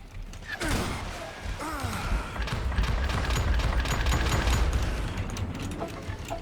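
Shotgun blasts boom in the Western shooter Call of Juarez: Gunslinger, several heavy shots fired in quick succession over a dense, continuous rumble of in-game action.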